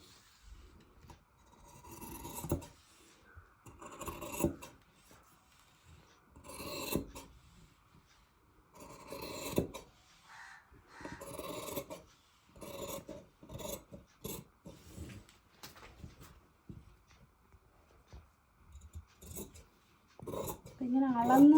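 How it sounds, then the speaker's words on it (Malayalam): Scissors snip and rasp through folded cloth being cut for a newborn baby dress, a string of short close cutting strokes in irregular bursts, with someone talking in between. "തുണിയെ മടക്കിയിട്ട് അങ്ങ് അളവെടുത്ത് കട്ട് ചെയ്യുക."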